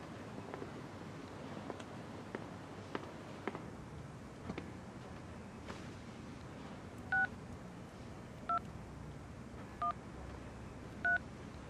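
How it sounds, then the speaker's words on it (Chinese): Telephone keypad dialing tones, four short evenly separated beeps over a quiet room background, faint and near, with no talking. "我还要打个电话。"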